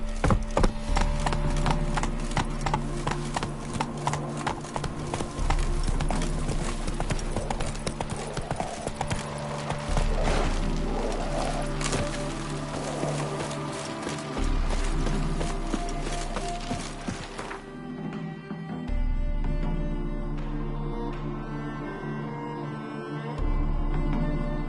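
Roach, the horse from The Witcher 3, trots along with steady, rhythmic clip-clopping hooves that carry through the whole stretch over a constant bed of game music and ambience, with no voices.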